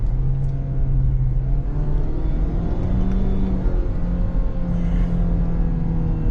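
Ford Bronco Sport accelerating on a highway under paddle shifting, with a steady loud engine drone and road rumble from inside the cabin and a rising tone that steps between gears. No one talks.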